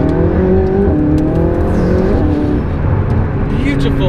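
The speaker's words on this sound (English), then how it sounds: "beautiful pops and bangs" A McLaren supercar's engine drones and revs loudly up close, its exhaust throwing out a few sharp pops and crackles over the throbbing tone.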